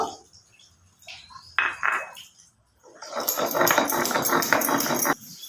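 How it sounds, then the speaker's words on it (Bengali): Fried boal fish being ground by hand on a stone grinding slab, giving a rough, scraping rasp in close repeated strokes, with a few brief knocks and scrapes just before. "মাছটা আমি ভেজেই নিয়েছি তো আমি এটা শিলে পিষে নেব"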